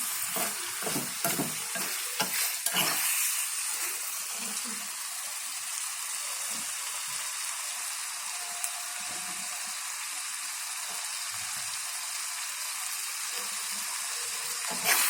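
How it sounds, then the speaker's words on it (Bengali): Steady sizzling of dried Bombay duck fish frying in a pan, with a few scraping stirs near the start, continuing evenly throughout. "এটাকে ভাজা ভাজা করে নেবেন"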